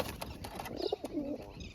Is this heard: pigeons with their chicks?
yes